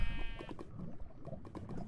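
A video game sheep bleats, a wavering nasal cry at the start followed by a jumble of busy, overlapping game sounds, moderately loud and close.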